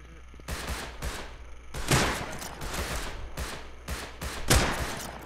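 Bursts of AK rifle fire in the online survival game Rust, several rapid volleys of close, crackling shots separated by short pauses, with other gunfire and faint voices in the background.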